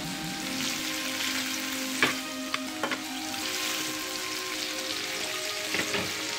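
Continuous crackling sizzle of food frying in a pan in the video game Food Survivor, with occasional brief clicks and scrapes; no voices.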